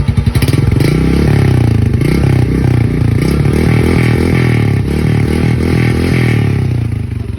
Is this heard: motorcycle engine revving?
yes